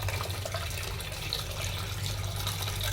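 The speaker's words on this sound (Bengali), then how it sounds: "মাছটা এখন ধুয়ে নিই," Tap water running while pomfret fish are washed in a sink, a steady close splashing stream with a low hum beneath.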